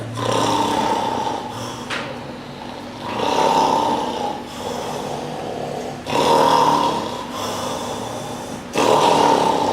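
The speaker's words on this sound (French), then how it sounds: "un ronflement lourd et lent s'élevait de ce vaste Gethsémani" Heavy, slow snoring rises and falls in long rasping breaths that repeat roughly every three seconds, steady and loud throughout with no voices.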